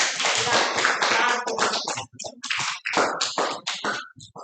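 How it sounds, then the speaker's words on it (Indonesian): Children in a primary school classroom clap their hands in short, uneven bursts of brisk claps with small gaps between them, mixed with chatter and voices. "Tepuk tangan dulu."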